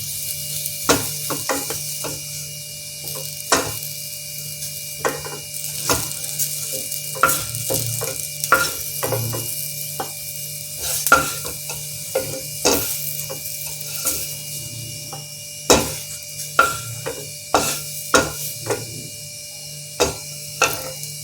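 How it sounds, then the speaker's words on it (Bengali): Pointed gourd frying in oil in a kadai while being pressed down, a low steady sizzle punctuated by frequent sharp clicks and scrapes of the spatula throughout, close and fairly loud. "এই যে আমি এভাবে চাপা দিয়ে দিয়ে ভেজে নেব পটলটা"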